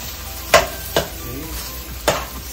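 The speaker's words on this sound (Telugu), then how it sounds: "ఒక్కసారి మంచిగా టాస్ చేసేసుకోవాలి." Egg fried rice tossed in a pan, with three distinct scraping stirs over a steady low sizzle, close and fairly loud, no talking.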